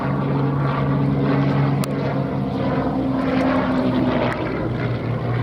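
A propeller warplane flies past at the Duxford VE Day Anniversary Air Show in 2015, giving a loud, continuous engine drone that swells and eases slightly over several seconds, alone without talk.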